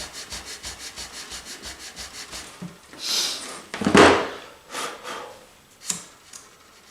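Sandpaper on a guitar body being worked to take out scratches, starting with quick rhythmic rubbing strokes, then a few longer, louder scrapes, close and dry.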